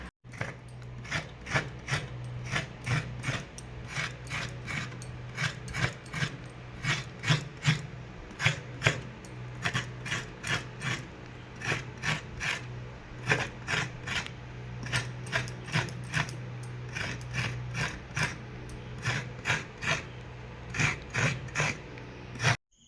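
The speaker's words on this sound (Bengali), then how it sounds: "আর এগুলো দেখুন কি সুন্দর কোড়া হয়ে যাচ্ছে, দারুণ করে।" Coconut being grated by hand: a steady, rhythmic series of dry rasping scrapes, close and clear, about two strokes per second, continuing for over twenty seconds with no talking.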